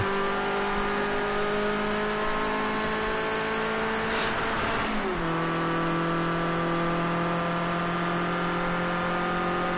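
Ford Escort RS 1600 race car lapping Bathurst in a racing video game, its engine holding a steady loud drone with a brief gear change midway, then pulling on at a slightly lower pitch, alone without talk.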